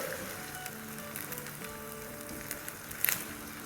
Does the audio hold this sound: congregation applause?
no